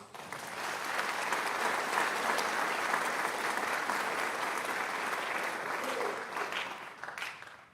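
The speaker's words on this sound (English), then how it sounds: "Let's give them a round of applause." An audience at a pharmacy school white coat ceremony applauds steadily and loudly for the incoming pharmacy students, a dense sustained wash of clapping that tapers off near the end.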